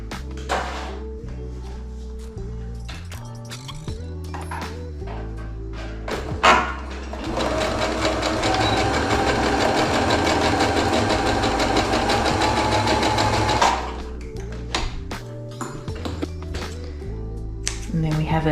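Sewing machine running a steady mechanical stitching whir along a half-inch cushion cover seam for a van conversion, with short start-stop bursts, then one long continuous run before stopping.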